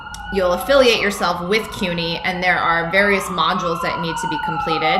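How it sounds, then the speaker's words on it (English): An ambulance siren wails outside, its tone sweeping up and down continuously and plainly audible beneath someone speaking close to the microphone. "there's ambulances"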